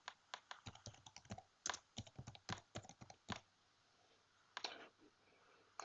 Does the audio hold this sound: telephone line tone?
no